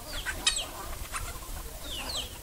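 Chickens being fed give short, scattered clucks and chirpy squawks at moderate distance, with an open outdoor hiss underneath and no talk.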